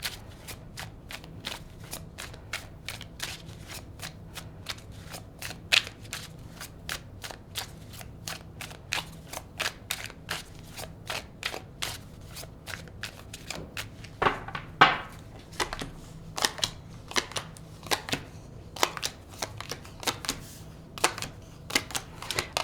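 Tarot cards being shuffled and pulled from a deck, producing a long series of quick, crisp flicks and riffles up close, steady and fairly quiet, with a few denser bursts.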